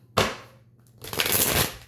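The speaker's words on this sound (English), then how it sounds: "All right, last shuffle." Tarot cards being shuffled, with a quick riffle burst followed by a longer close, rustling flutter of cards, and no talking.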